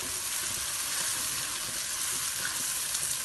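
Tomato puree hits chicken frying in a pan for butter chicken (chicken makhani handi), giving a loud, steady, hissing sizzle that holds without a break throughout.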